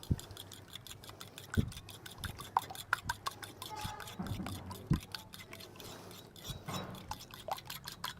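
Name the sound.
whisking yogurt in a bowl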